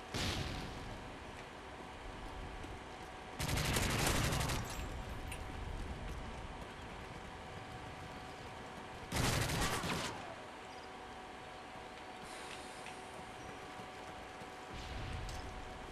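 Two loud, sustained bursts of automatic gunfire from Call of Duty MW3 online multiplayer, each lasting about a second, break through a quieter background hum of the game.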